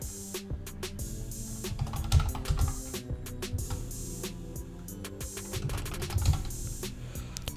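Someone types text on a computer keyboard, a close, steady patter of light key clicks with a few louder taps, continuing without pause and heard alone.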